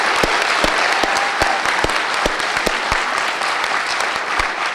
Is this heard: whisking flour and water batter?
no